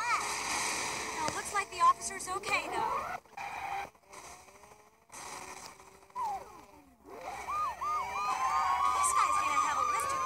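Wailing police SWAT car siren in the video game Smash Bandits, rising and falling over engine roar and crash noises, growing louder and steadier toward the end, with a voice talking over parts of it.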